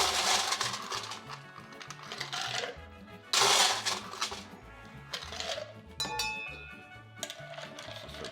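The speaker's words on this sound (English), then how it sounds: "Let's add some ice to our pitcher." Ice cubes are dropped into a pitcher for a large batch of coconut margarita, giving irregular bursts of clinking and rattling over a quiet background.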